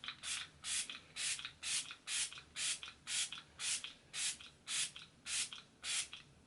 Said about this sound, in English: I'm going to use the Catrice Prime and Fine Dewy Glow Setting Spray.